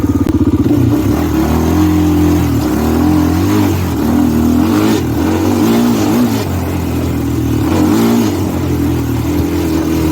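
A Honda TRX400EX ATV engine revs while being ridden, its loud mid-pitched drone rising and falling through several throttle swells, close and continuous with no talk.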